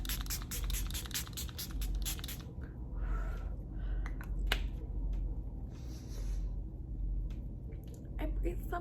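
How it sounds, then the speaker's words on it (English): A Catrice Dewy Glow fixing spray misted onto a face from a short distance, a quick series of crisp pumped sprays followed by a few scattered hissing bursts, close to the microphone over faint background hiss. "I use the Catrice Cosmetics Illuminating Prime and Fine Dewy Glow Fixing Spray."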